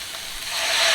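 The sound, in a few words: marsala wine poured into pan of mushrooms, sizzling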